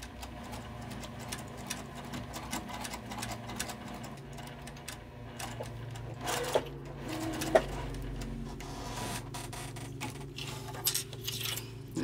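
Sewing machine stitching a zipper onto a fabric pouch, quiet intermittent clicks and ticks with a low motor hum, in short bursts and pauses rather than a steady run.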